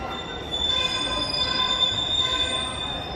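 A TransPennine Express train at a station by Manchester Airport, its wheels squealing on the rails in a steady, high, metallic whine with a rumbling undertone, close by and with no voices.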